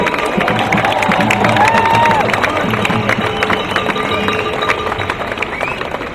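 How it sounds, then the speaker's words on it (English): A large crowd at a People's APEC rally applauds and cheers steadily for the speakers, a dense roar of clapping and whoops with a voice rising above it. "Can we have another round of applause for all the speakers here today"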